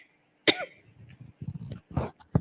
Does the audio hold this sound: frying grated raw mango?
no